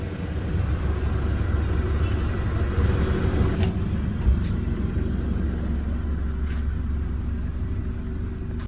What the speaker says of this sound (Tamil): ஸோ கைஸ் பஸ்ஸு உள்ளே வந்தாச்சு